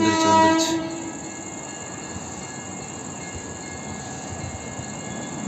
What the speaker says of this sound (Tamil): அமிர்தா எக்ஸ்பிரஸ் இருக்குன்னு நினைக்கிறேன். மதுரை டு ட்ரிவாண்ட்ரம் வரையும் போகும் இந்த வண்டி.